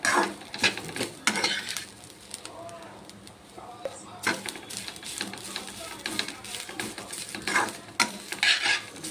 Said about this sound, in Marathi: कारला फ्राय करताना कांदा टाकायचा हे बघा कारला आपलं फ्राय झालेलं आहे